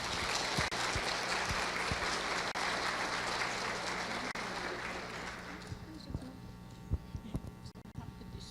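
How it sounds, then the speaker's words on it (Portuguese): Applause from a congress audience at the opening night of a national congress, a dense crowd clapping steadily and fairly loudly, then thinning into a few scattered claps toward the end. "Salva de palmas para a Rosane."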